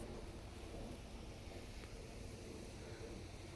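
Steady rain falls outdoors in a garden in December, with a low, continuous rumble of thunder beneath the hiss, faint and distant, and no speech.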